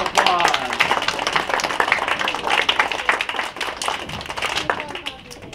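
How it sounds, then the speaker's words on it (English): Children and adults in a church lesson clap for the actors, a lively uneven patter with distinct hand claps, over voices and chatter, fading slightly toward the end. "let's give our actors a big round of applause."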